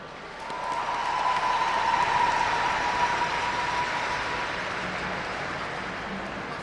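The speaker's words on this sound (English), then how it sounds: "t's give Phyllis Bergmans and Christian Ewan a round of applause." An audience at the opening ceremony of the 2026 Canadian Ringette Championship breaks into applause, swelling within a second and holding as a dense, sustained clatter before easing slightly toward the end.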